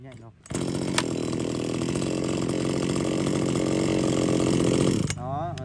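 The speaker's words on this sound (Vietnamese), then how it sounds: "Máy nổ khá là êm nha" A Japanese chainsaw with a small two-stroke engine holds a steady, smooth buzzing run for about four and a half seconds, loud and close, with brief talk before it starts and after it stops.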